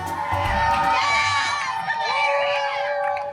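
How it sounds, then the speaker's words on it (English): Crowds line Main Street at Magic Kingdom during the Disney Marathon, screaming, cheering and whooping loudly and continuously as runners pass, with a speaking voice heard among the din. "It's a magical experience running down Main Street with all the screaming crowds"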